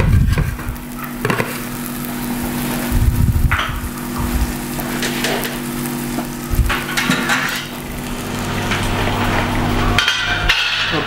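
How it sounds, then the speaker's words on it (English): Mushrooms roast in a little butter with salt in a pan, giving a continuous sizzle with occasional louder crackles and stirring knocks, plus a low steady hum underneath. "The mushrooms are only slightly roasted in a little bit of butter"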